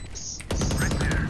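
Rapid gunfire from a first-person video game erupts midway and keeps going as a loud, dense burst over a softer lead-in.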